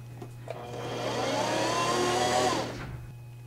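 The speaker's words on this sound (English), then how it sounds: "you just push on the sewing machine pedal" A sewing machine runs steadily for about two seconds while winding thread onto a bobbin, its motor whirring up and then winding down, close by over a low steady hum.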